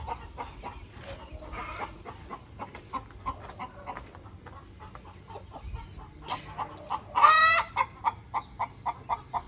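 Backyard garden hens cluck in short, repeated bursts, with a louder rapid run of clucks near the end, fairly close but soft.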